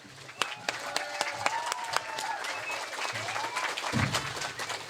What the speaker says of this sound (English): let's give Eric another round of applause.